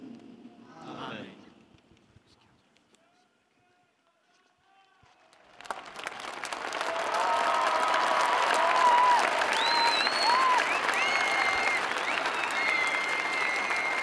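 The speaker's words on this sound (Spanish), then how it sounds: "El gran aplauso de la multitud que responde a la bendición del Santo Padre." A large crowd at the Pope's Easter Urbi et Orbi blessing breaks into loud, sustained applause that rises suddenly halfway through and carries on to the end, after a brief voice and a near-silent pause.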